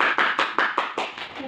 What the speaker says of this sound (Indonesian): beri tepuk tangan ya untuk kelompok 3